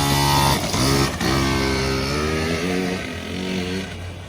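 A Banshee 60 race bike's small engine buzzes and revs nearby, its pitch climbing and falling through several quick throttle blips in a raspy, steady drone.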